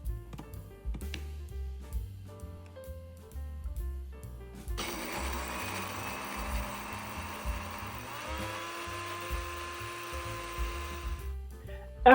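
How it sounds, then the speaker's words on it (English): A cheap electric food grinder whirs loudly as it grinds dried poblano peppers into powder, a dense harsh roar starting a few seconds in and running steadily for about six seconds before stopping, with softer clicks and handling before it. "I decided to grind some of my dried poblano peppers into a fine powder"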